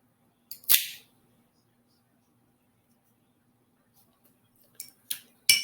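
A cigar cutter snips the rounded cap off an Espinosa Laranja Reserva Escuro Toro cigar, one sharp close click followed by a quiet pause and then a few more small clicks and snips.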